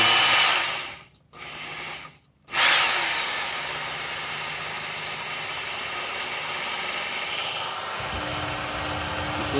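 A Work Sharp Ken Onion electric knife sharpener runs with a steady, loud motor whine and abrasive belt hiss, briefly cutting out twice near the start before running continuously, sharpening an ESEE5 knife.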